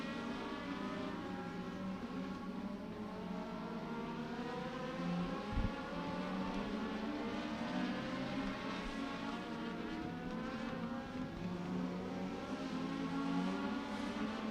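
Legend race cars circling Beckley Motor Speedway during a feature race, a steady blended engine roar heard from a distance that holds constant, with no talk over it.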